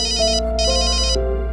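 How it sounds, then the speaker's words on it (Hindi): A phone ringtone sounds close and loud, a repeating bright electronic melody in two bursts with steady tones beneath, no talk over it. "एक सेकंड, वो फोन आ रहा है।"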